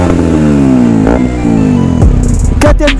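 A KTM Duke 125 motorcycle engine revs loudly up close, its pitch climbing in steady sweeps before dropping off and rising again near the end, with no voices over it.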